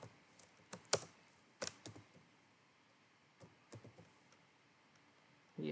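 Computer keyboard typing while coding a Vue.js and Tailwind CSS app, scattered quiet key clicks in short irregular bursts with pauses between, close and soft.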